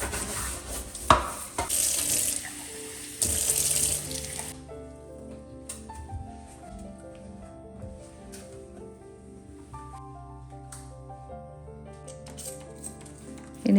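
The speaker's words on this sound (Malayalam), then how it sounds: "ആ ലിക്വിഡ് ഇത് തന്നെ സിങ്കിലേക്ക് ഒഴിച്ചിട്ട് സിങ്ക് നന്നായിട്ട് ക്ലീൻ ചെയ്ത് എടുത്തിട്ടുണ്ട്" Water runs from a tap into a kitchen sink for a few seconds with splashing and rubbing as the sink is cleaned with liquid cleaner, then gives way to quieter clinks and faint kitchen noises.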